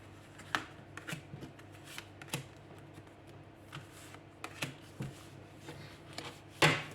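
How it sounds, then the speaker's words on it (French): Tarot or oracle cards shuffled by hand for a reading, a soft, steady papery riffling with light slaps and a crisp snap near the end, close and alone with no talk. "Et je vais prendre 3 cartes."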